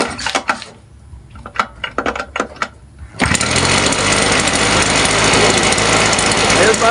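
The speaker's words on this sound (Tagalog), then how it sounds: "naikabit na natin yung carburetor niya. Ngayon, subukan naman nating paandarin kung aandar" A Stihl sprayer with a newly installed carburetor gives several sharp pull-start rattles, then catches and runs as a loud, continuous, high-pitched engine buzz close by.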